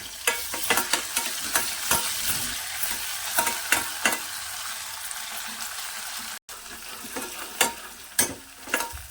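Onion with ginger-garlic paste frying in hot oil for a Maharashtrian mixed vegetable dish, a steady close sizzle broken by repeated sharp scrapes and clacks of a spatula stirring the pan, with no talking.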